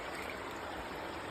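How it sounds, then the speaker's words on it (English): A contaminated creek, Leslie Run in East Palestine, Ohio, streams steadily over rocks in a dense, continuous broadband rush that stays even and close throughout, with no voices. "This creek is hugely contaminated"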